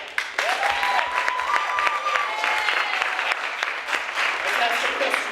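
An audience at an improvised musical noir comedy show breaks into steady applause, a dense clapping crowd with cheers and whoops mixed in, sustained throughout.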